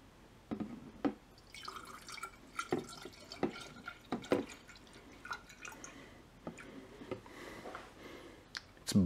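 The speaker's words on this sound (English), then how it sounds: "We are going to pour said coolant into this jar." Nissan 50-50 coolant pours into a jar, heard as scattered close drips and splashes with small glassy clinks, intermittent and fairly quiet with no talk.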